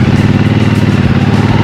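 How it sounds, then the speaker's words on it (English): Triumph T120 motorcycle engine running with a loud, throbbing twin-cylinder pulse, heard close and steady in a brief burst. "But I just love the sound of the bike."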